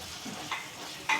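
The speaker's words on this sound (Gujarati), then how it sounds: "પછી હવે પાછું હલાવવાનું." A spoon scrapes and stirs a turmeric, cumin and chilli spice mixture in a pan over a soft sizzle, with two short close scraping strokes.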